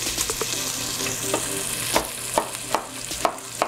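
Bacon fries and renders in a pan, with a continuous crackling sizzle and a run of regular scraping stir strokes toward the end, close and without speech.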